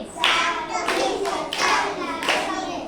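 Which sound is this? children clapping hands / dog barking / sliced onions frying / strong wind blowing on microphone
children clapping hands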